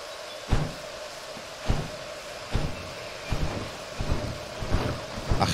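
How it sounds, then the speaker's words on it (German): Rain falls steadily in the Derail Valley train game, a constant hiss broken by periodic loud thumps and rumbles, with no voices. "Ach ja, was ja jetzt regnet"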